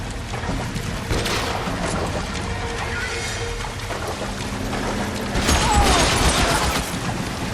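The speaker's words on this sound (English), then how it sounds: "The water's rising." Rushing flood water rising through an underground setting in the video game L.A. Noire, a steady dense wash of pouring water that swells louder toward the end, with low rumbling game sounds beneath.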